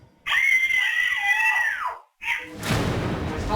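A girl screams at home, captured by a home surveillance camera: one long, loud, strained shriek of nearly two seconds, a short gap, a brief second cry, then harsh noisy sound to the end.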